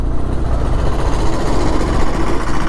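A motorcycle engine runs steadily just after being refuelled with petrol on a long road ride from Delhi to Bihar, a close, continuous mechanical drone with a slight vibrating pulse and no talk.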